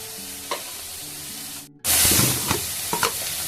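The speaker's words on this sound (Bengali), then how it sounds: "সবগুলো মশলা একসাথে সুন্দর করে কষিয়ে নেব" Ground spices with salt, coriander powder, red chilli powder and a pinch of sugar frying in a pan for a prawn curry, a soft sizzle with a few stirring scrapes that jumps louder after a brief pause.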